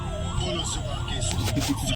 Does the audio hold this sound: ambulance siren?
yes